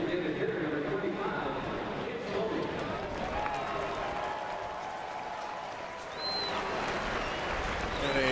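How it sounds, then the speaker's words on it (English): A baseball stadium crowd gives a muted round of applause, scattered clapping and crowd murmur that swells and dips across the stands, with a commentator's voice heard over it. "And a muted round of applause for Jim Thome, only because this is his 4th"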